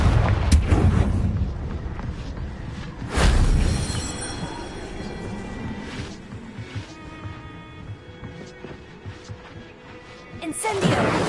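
Confringo fire spell blasts from the game Hogwarts Legacy, heavy booming explosions at the start, around the middle and at the end, with a rumbling, crackling battle din between them.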